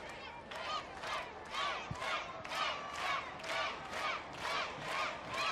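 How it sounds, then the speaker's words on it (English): Lecce supporters chanting in a stadium during a youth football final against Roma, a rhythmic crowd chant that swells and falls in regular pulses, sounding moderately distant and carrying on steadily. "Lecce crowd doing their utmost to try and get their team to move up a gear"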